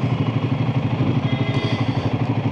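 Royal Enfield Himalayan 450 motorcycle riding in second gear, a steady loud engine drone with rapid pulsing throb, close and continuous with no talking.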